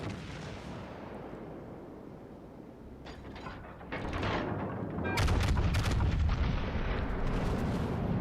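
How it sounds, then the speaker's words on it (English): Battleship Rhode Island firing a broadside in World of Warships, heard as a loud mechanical rumble with sharp booming bursts building in the second half, continuous and dense with no talk. "look at that Rhode Island broadside"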